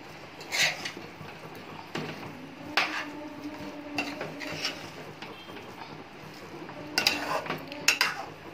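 Fish eggs being stirred and fried in a pan, a spoon repeatedly scraping and clinking against the metal over a soft, steady sizzle, with several sharper clanks scattered through.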